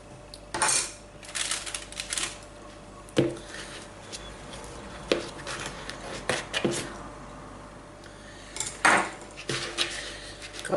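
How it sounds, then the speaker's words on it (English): Cooked jacket potatoes being cut in half and their soft flesh scraped out into a big bowl, giving a series of irregular utensil scrapes and knocks against the bowl, fairly close, with no talking. "I'm going to cut them all in half and scrape out the flesh into my big bowl here"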